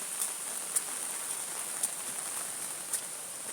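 Rain falls steadily on a rainy day in Hanover, Jamaica, a soft, even hiss with a high electronic whine and occasional sharper ticks of drops nearby, without speech.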